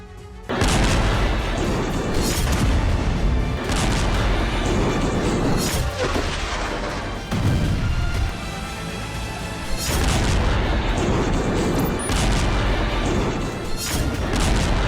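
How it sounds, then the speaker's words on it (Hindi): Heavy explosions and booms in war footage from Gaza and Iraq, loud and near, with repeated blasts and crashing, rumbling debris across the whole span and a voice faintly audible beneath. "एक तरफ गाजा में धमाके हो रहे हैं तो दूसरी तरफ गाजा से बहुत दूर इराक में भी धमाकों का दौर जारी है।"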